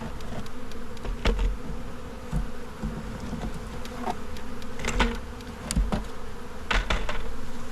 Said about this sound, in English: there's a decent amount of bees hanging out in the bottom box there